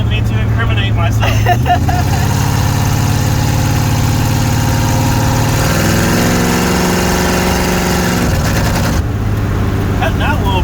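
A car engine drones loudly from inside the cabin while driving, its steady mid-low hum shifting pitch and briefly faltering as it cuts out, with voices talking over it.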